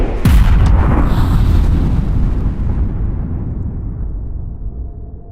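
A nuclear explosion effect hits with a deep, heavy boom and a sharp initial crack, then rolls on as a long, loud rumbling roar that slowly fades over several seconds.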